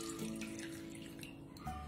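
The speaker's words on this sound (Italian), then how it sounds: "aggiungo l'acqua" Water poured into a small bowl holding crumbled fresh yeast for a batter, a short faint trickle and splash heard close up.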